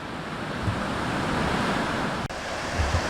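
A river rushes over large rocks at a free camping spot on Brown Mountain, a loud, steady broadband roar of flowing water mixed with wind buffeting the microphone, with no voices.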